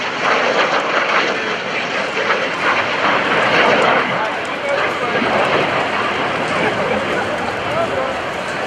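An A-4 Skyhawk jet flies over a 2015 naval air station airshow with a loud, continuous roar that swells slightly and stays sustained throughout, with an announcer talking over it.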